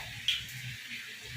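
Water running from a tap in a home, a steady hiss with a small splash near the start, fairly close and quiet with no talking.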